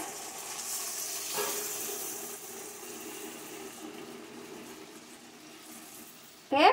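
Mustard paste water goes into a sizzling pan of chanda fish curry with pumpkin greens, cooked in a Bengali mustard sauce. A steady close frying hiss runs throughout and ends in a sudden loud burst.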